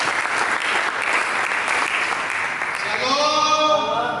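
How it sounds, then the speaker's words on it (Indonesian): A church congregation at an Indonesian sermon breaks into dense, loud applause that carries on steadily for about three seconds, then fades as a voice begins speaking. "Mari kita berikan tepuk tangan bagi Yesus."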